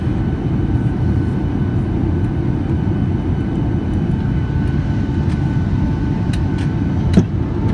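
Steady, loud low roar fills the cabin of a Ryanair Boeing 737-8AS on landing with flaps 40 and hard braking, a continuous rumble without pauses and a brief thump near the end.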